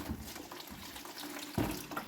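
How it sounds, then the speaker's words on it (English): Dirty water running and splashing while the front brakes of a 2000 Audi A4 B5 are washed, a continuous close trickle with a brief louder gush near the end and no talk. "Look at all that dirty water."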